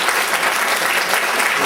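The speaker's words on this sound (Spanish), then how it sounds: "Solicitamos un fuerte aplauso, por favor, al doctor Solís." Steady, dense applause from a seated audience at a linguistics conference welcoming a doctor to the podium, even and fairly loud throughout the short stretch with no voices on top.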